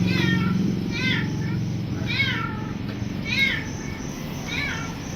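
A house cat meows repeatedly, five drawn-out rising calls spaced about a second apart, fairly close, over a low rumbling background in a home kitchen while a family cooks dinner.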